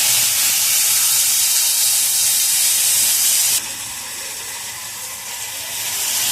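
Potatoes sautéing in oil in a pan for kachu bora give a loud, dense hiss that drops abruptly to a quieter steady sizzle partway through, with no voices.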